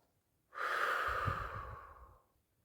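Relaxed breath drawn slowly in and let out through the nose, one soft airy exhale lasting about two seconds with no talking.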